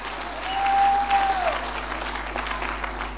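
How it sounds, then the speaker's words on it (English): A church congregation claps during a testimony service, a sustained wash of applause that stays steady throughout, with a brief whistle-like tone riding over it early on. "clap hands for Jesus"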